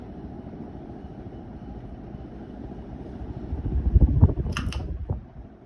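A 1982 Hunter Original ceiling fan in brown and brass, a two-speed model with slightly loose blades, runs with a low steady hum, rising a little in the middle with a few faint clicks before settling.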